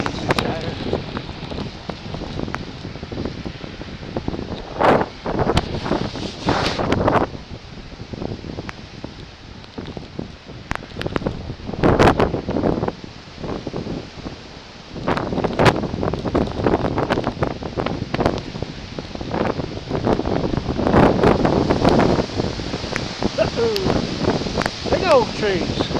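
Strong hurricane wind during Hurricane Sandy roars past a bicyclist riding at night at the Jersey Shore among big oak trees. The gusts are loud and buffeting, with repeated bursts of wind noise on the microphone, and voices speak at times.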